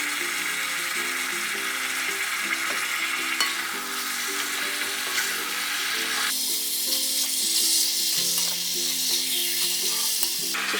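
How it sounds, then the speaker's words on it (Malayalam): Chicken is sautéed in a pan for a chicken roast, giving a steady, loud sizzle with stirring scrapes over a continuous tonal background. "ചിക്കൻ നന്നായി വഴറ്റി"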